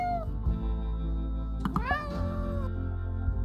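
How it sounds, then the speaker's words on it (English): Cat meows in the video game Spirit Talk, a rising, wavering mew around the middle over a steady low background hum, with a softer cry at the start. "Oh, look at the mama cat and the regular baby cat."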